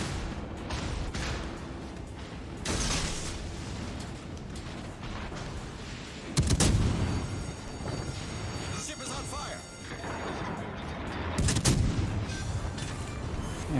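Naval gunfire and shell explosions in the video game World of Warships Legends, with heavy booming blasts repeating across a dense, continuous battle din, loudest near the middle and end.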